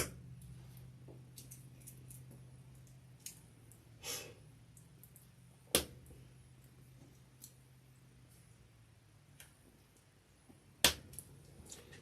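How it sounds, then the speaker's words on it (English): A small plastic cap snaps onto a vinyl and cotton tote bag with two sharp, quiet clicks several seconds apart, set against a faint room hum and no talking. "take the little tiny cap and put it on, and you can hear it click"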